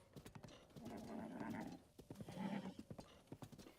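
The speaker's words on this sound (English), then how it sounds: "Run, horsey, run!" A horse galloping in the video game Zelda Breath of the Wild, rapid rhythmic hoofbeats with two drawn-out whinnies in between, fairly quiet and close.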